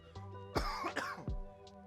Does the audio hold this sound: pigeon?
no